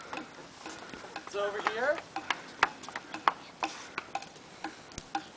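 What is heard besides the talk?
mysterious ticking noise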